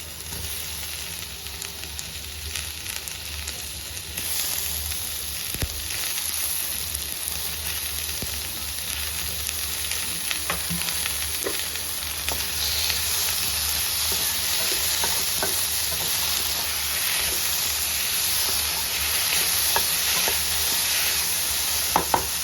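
Tomatoes sautéing in a pan for green pea kurma, giving a steady loud close sizzle that holds throughout, with occasional faint stirring scrapes and no talking.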